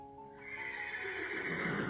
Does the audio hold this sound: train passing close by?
no